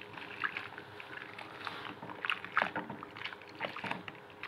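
Water poured over raw chicken pieces in a kitchen while preparing crispy chicken, a soft, continuous splashing and trickling with brief louder spatters, close and alone.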